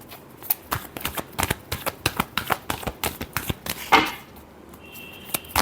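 Tarot cards shuffled up close, a quick run of crisp papery riffles and taps in a steady rhythm, with a slightly louder flutter near the end.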